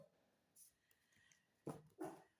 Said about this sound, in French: j'ai mon chien qui aboie encore parce qu'il y a du monde qui passe devant les fenêtres